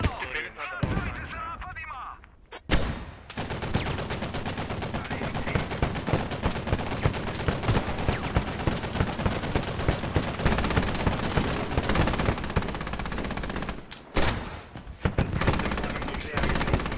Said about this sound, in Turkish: Yerde sıkıyor bana. Yerde sıkıyor.